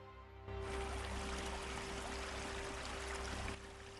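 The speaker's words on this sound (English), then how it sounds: "that's a pretty good river sound" River water rushes in a steady, broadband flowing wash that starts abruptly and stops abruptly after about three seconds, with a faint hum underneath.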